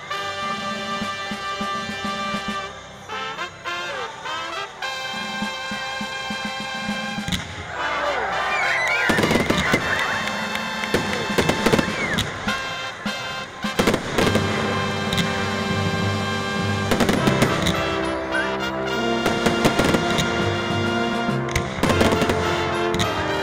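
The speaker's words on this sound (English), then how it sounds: "let's watch some fireworks now" Fireworks at a 2016 community fireworks ceremony in Scotch Plains, with repeated bangs and crackling bursts over a steady background of music and crowd noise; the loud booms cluster in the second half.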